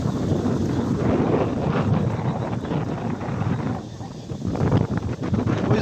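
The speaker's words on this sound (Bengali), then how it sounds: "হবে কি, হচ্ছে ঝড়। শীত করতেছে প্রচন্ড, আবার ঠান্ডা বাতাস।" Strong cold wind in a storm roars steadily across the whole stretch, buffeting the microphone with a broad, rough rush that dips briefly midway before surging back.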